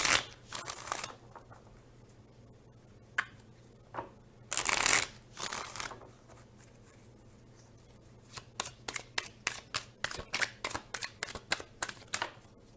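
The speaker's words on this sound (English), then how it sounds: "Let's pull a couple more cards." Tarot-style cards shuffled by hand before a reading, with riffling bursts and soft flutters followed by a run of quick, rhythmic close card snaps and flicks in a quiet room.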